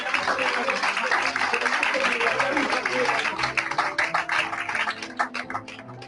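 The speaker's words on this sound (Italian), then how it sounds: "un applauso veramente, siete stati bravissimi" A crowd applauds at a certificate-giving ceremony, sustained dense clapping that gradually thins into scattered individual claps toward the end, with voices murmuring underneath.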